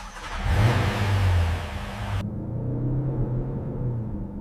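A Cadillac Celestiq engine turns over, catches and revs up loudly, then settles into a steady, throaty idle rumble close by.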